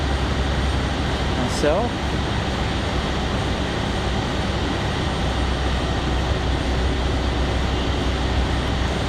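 Republic Airways jet airliner at Raleigh Durham airport on a windy day, a steady broadband jet roar rumbling continuously with wind noise, a brief voice heard once.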